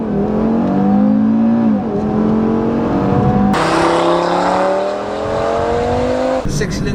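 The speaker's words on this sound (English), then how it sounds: "So we have 5-cylinder turbo engine with one of the best notes" Audi RS3 Sedan 2018 five-cylinder turbo engine pulling hard through the gears, a loud rising growl that drops at each upshift, heard from inside the car with a voice talking over it.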